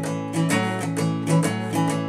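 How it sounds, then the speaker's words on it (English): A guitar plays a shuffle rhythm of steady, swinging strummed chords that pulse in a loping long-short pattern, close and clear, with no voices. "another popular rhythm that you're going to recognize is the shuffle rhythm"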